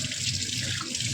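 Tap water pours steadily into a kitchen sink, a continuous close splashing rush with no talk.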